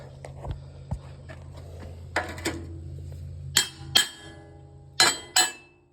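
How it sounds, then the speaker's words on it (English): Sharp metallic hammer strikes on a Woodland Mills HM122 sawmill's engine plate, a few light taps at first and then several louder ringing blows in pairs, close up over a low background hum. "So I'm just gonna take a hammer."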